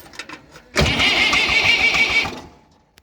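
A pasture mower's engine is cranked after striking a boulder: a few faint ticks, then a sudden loud catch into a rough, rattling run that holds for about a second and a half before dying away, with no talk.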